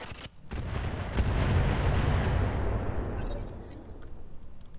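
Heavy weapons fire from BattleTech mechs in a video game, a sustained roaring barrage that builds and holds for several seconds, with sharp crackling bursts near the end and no talk.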